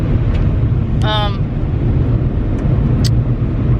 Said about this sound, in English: I'm driving right now.